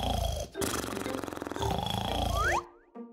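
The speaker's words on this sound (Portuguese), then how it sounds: "Ah, não. Você ronca." Cartoonish snoring comes in two long, buzzy, rasping breaths, loud and close, then breaks off into a quick sliding boing-like tone at the end.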